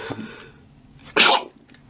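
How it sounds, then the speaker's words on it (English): A single sharp, loud sneeze bursts out after a moment of quiet, with faint breathy sounds before it. "Need to sneeze."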